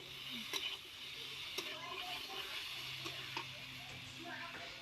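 Soybean and potato curry with ground spices and a little water being stirred in a pan, a low continuous sizzle with soft scraping strokes and occasional clicks of the spoon, faint and close.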